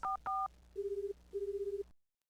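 A telephone is dialed to call the police in an old Macintosh game, two short dual-tone beeps followed by two longer electronic tone bursts, then silence.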